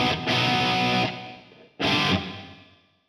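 Two bursts of distorted electric guitar through a cheap digital reverb effect, each chord ringing out into a washy reverb tail that fades away.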